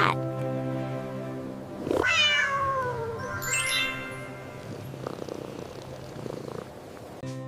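A domestic cat meows close and clear, a few drawn-out rising-and-falling calls standing alone with no other sounds around them.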